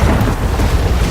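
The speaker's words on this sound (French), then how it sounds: "c'est le tonnerre" A single loud, rumbling boom of thunder in the video game Tomb Raider, deep and close, filling the brief moment.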